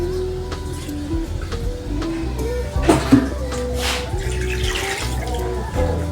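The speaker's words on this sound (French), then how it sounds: "je vais prendre un peu d'eau" Water trickles and splashes from a tap or jug into mintoumba dough for kneading, a steady nearby pour that swells briefly midway, with faint kitchen handling noises around it.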